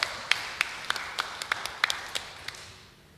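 Sharp, separate hand claps at a religious healing gathering, roughly ten of them at an uneven, fairly quick pace, thin and moderately close, with no talking over them.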